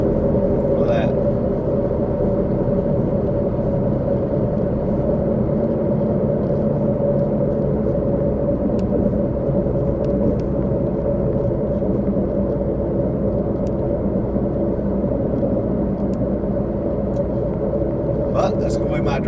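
A car driving across Percy Priest Dam at Percy Priest Lake toward the Nashville airport, heard as a steady, continuous low road rumble with engine drone throughout, and occasional faint ticks above it.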